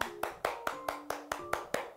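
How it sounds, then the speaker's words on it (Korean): Applause at a church online Bible study session: crisp hand claps in a quick, even rhythm, about nine claps in two seconds, close and moderately loud. "수고하신 모든 분들께 격려의 박수 하도록 하겠습니다."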